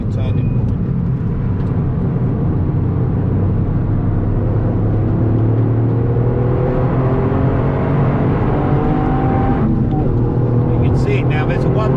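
A Toyota Yaris GR at full throttle on the Nürburgring Nordschleife, its engine drone rising steadily through the gears with tyre and wind roar, loud and continuous, someone talking over it throughout.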